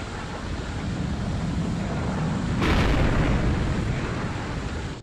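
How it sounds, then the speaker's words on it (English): Downward thrust outlets on a Thunderbirds craft fire as a broad, roaring rush of noise, steady at first, then swelling into a louder blast midway before gradually tapering off. "releasing tow cable and activating downward thrust outlets"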